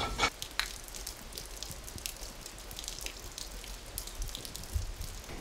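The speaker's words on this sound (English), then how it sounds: "Right, it's already raining." Rain falling outdoors, scattered drops pattering and dripping on nearby surfaces over a soft steady wash, fairly quiet with an occasional louder tap and no talking.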